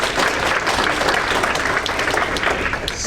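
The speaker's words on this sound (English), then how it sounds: "Let's give a round of applause to our officers." A meeting audience gives a round of applause for the club officers, a loud, dense burst of many hands clapping together that stays full and even for a few seconds.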